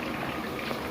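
Nylon sev fries in hot oil with a dense, even bubbling hiss, close and steady for a brief moment.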